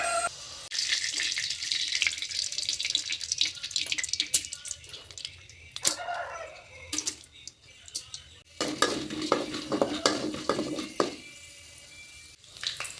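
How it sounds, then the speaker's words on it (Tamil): Hot oil crackles and spatters as mustard seeds and urad dal pop in a pan, a busy sizzling with sharp little bursts, alongside occasional clinks of a utensil. "கடுகு, உளுந்தம்பருப்பு பொரிஞ்சதுமே"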